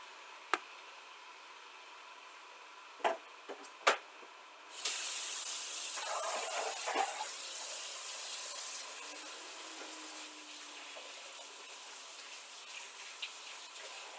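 Sauce ingredients for a lasagna browning in a pan give a steady, bright sizzle that starts suddenly a few seconds in after some clinks and knocks, then settles to a softer continuous hiss.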